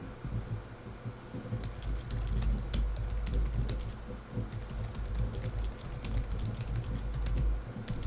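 Rapid, uneven keystrokes clatter on a computer keyboard, close and crisp, with brief pauses between bursts of typing and no voices.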